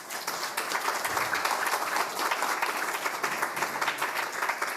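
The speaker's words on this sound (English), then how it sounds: "I would like you to give a round of applause to this panel." Audience applause for a panel at a conference session on financing for resilience and adaptation, a dense, steady clatter of many hands at moderate loudness throughout, with no talk over it.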